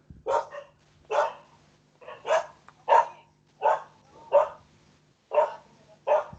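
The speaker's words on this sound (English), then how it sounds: "And the dogs are doing their territorial instinct number." Dogs bark territorially in a steady series of about eight separate, evenly spaced barks at moderate distance, under a low, constant hum and with no speech.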